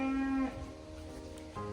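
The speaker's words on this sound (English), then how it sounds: "every time that we are around our cows, they're just calling and calling and calling" Cows on a farm moo loudly and close by, one long drawn-out call followed by the start of another, with no talking.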